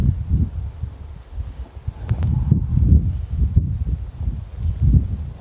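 Low, gusty wind buffeting the microphone in uneven surges, with a few faint higher rustles mixed in.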